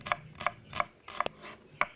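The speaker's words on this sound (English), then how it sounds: "We slice 5 shallot." A knife slices through five shallots on a cutting board for Balinese sambal matah, giving crisp, evenly spaced chops about every third of a second, close and clear with no talk.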